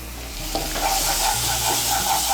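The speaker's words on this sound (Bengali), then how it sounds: "সমস্ত মশলাগুলোকে মিশিয়ে নিয়ে ভালো করে মশলাটাকে কষিয়ে নেব" A salted spice mix is stirred and sautéed in oil in a pan, with a steady close sizzle and occasional soft stirring scrapes, and no talking.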